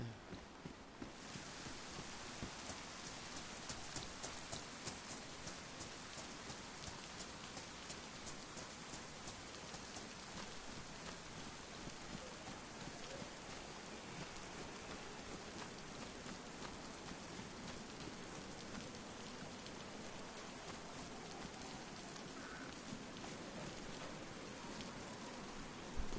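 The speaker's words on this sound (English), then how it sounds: "Oh, I thought it was gonna stop raining." Steady rain falls in the DayZ video game, a continuous broadband hiss of drops that holds evenly from start to finish with no voices.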